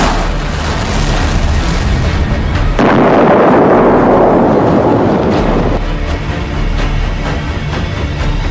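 A deep, continuous rumbling roar of explosions, loud and booming, with a heavy blast swelling in the middle before settling back into a distant rumble.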